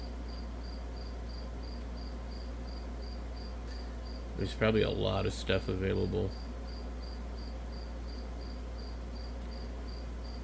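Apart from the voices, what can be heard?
crickets chirping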